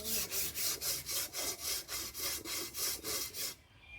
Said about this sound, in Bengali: শিরিষ কাগজ নিয়েছি, শিরিষ কাগজ।